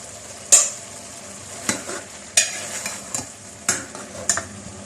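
Chopped carrots stirred into masala rice frying in a pan, with a low steady sizzle under repeated sharp scrapes and clinks of a spoon against the metal at irregular intervals, close and fairly loud.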